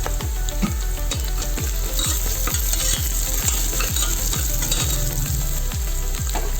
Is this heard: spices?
yes